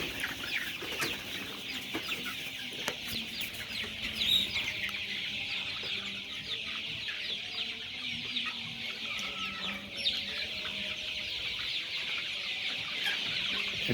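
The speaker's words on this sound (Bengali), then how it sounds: "আপনারা দেখেন আমাদের মুরগিলা" Chickens on a poultry farm near Karamatia Bazar in Noakhali keep up a continuous chorus of clucking and chattering from many birds, close and fairly loud, with no one speaking.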